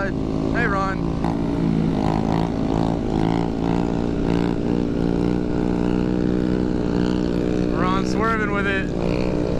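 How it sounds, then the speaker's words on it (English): A motorcycle rider pops a wheelie in street traffic while a KTM supermoto engine drones steadily nearby. The engine hum is loud and continuous, and voices talk over it. "Who was that doing a wheelie?"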